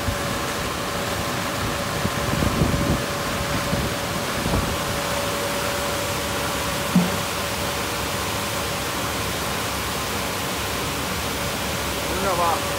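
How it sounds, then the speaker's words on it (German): Strong wind blows outdoors in a steady broadband rush, loud and continuous with occasional gusty swells, no one speaking over it. "weil der Wind so stark ist"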